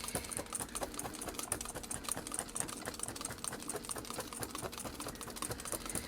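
Chunky felting needles stabbing repeatedly into wool, a fast, steady run of soft rapid punches and light clicks up close, with no talk over it.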